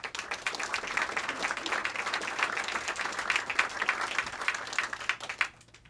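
Audience applause fills a bookstore event space as an author is welcomed to Politics in Prose, a steady wash of many hands clapping for about five seconds before quickly tapering off.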